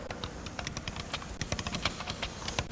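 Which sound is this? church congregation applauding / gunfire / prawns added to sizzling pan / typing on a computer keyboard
typing on a computer keyboard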